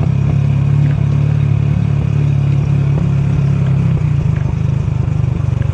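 An old Honda Wave 100 motorcycle descends a winding mountain road in North Luzon, its mid-pitched engine droning steadily and close with constant road rumble and light clatter throughout.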